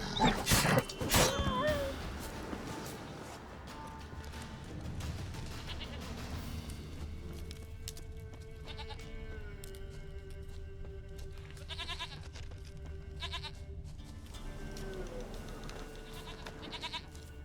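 A goat bleats in The Witcher 3: Wild Hunt, loud and close at first, then more distant calls come amid outdoor game ambience, with a long whining tone in the middle.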